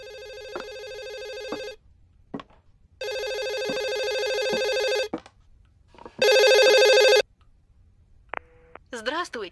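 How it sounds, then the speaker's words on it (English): A telephone in a horror video game rings in long, loud electronic bursts separated by short silences, with a few shorter tones and a voice briefly heard between the rings. "Okay, the phone's ringing."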